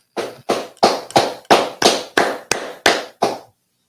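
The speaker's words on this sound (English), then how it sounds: "Let's clap it up." An audience claps in a steady rhythm, about ten loud, sharp, evenly spaced claps ringing out alone with no talk between them.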